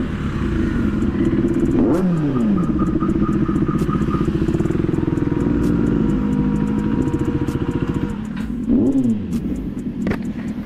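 A KTM Duke 390 motorcycle fitted with a Super Duke exhaust kit idles with a steady, throaty rumble, revving up twice with rising pitch sweeps, close and loud with no talking.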